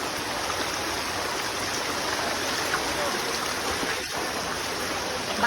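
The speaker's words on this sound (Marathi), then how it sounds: "पाण्याचा फ्लो खूप आहे" A strong mountain stream rushes over mossy rocks on a trek to Malanggad, a steady, loud broadband roar that fills the whole clip with no pause.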